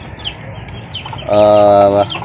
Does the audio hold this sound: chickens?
yes